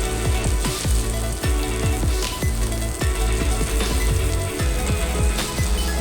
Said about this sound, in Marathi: कांदा पण आपल्याला थोडा वेळ फ्राय करायचा